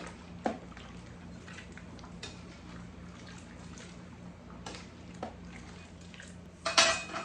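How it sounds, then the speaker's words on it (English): Potatoes being stirred in a big batch of Irish stew, with a few metal clinks of spoon against pot and a soft scraping swirl, ending in a sharper clatter; fairly quiet with steady kitchen background hum. "Potatoes are in. I'm just going to give them a stir."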